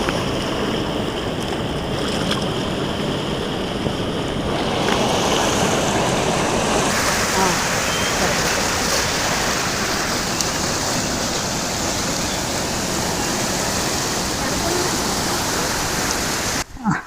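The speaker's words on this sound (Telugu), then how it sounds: "చూడండి ఫ్రెండ్స్ నీళ్ళు అయితే చాలా స్పీడ్గా వస్తున్నాయి" The fast Tungabhadra river rushes loudly and continuously, a dense broadband roar close by with no pauses, steady from start to finish.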